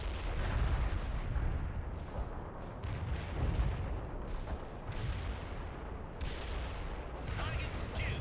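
Sustained gunfire and artillery explosions from the real-time strategy game World in Conflict, a dense continuous barrage of booms and shots with radio-style unit voices cutting in under the combat.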